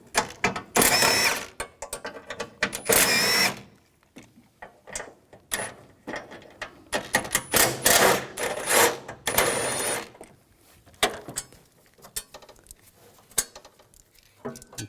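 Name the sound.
13mm socket removing battery tray bolts, Chevrolet Equinox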